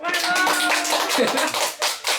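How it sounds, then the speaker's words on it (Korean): Studio audience clapping at the start of a quiz show pitting two career experience support centers against each other, a dense burst of hand claps with voices mixed in, tapering briefly near the end. "박수!"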